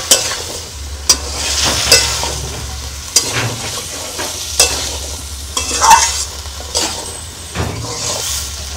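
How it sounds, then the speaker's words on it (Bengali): Sweet pumpkin pieces stirred into a spice paste frying in oil: repeated scraping strokes of a spatula with sharp knocks against the pan over a steady sizzle, close and fairly loud, no talking. "এখন একটু নেড়ে চেড়ে দেব মশলা কষার সাথে সুন্দরভাবে মিষ্টি কুমড়া মিক্সড হওয়ার জন্য।"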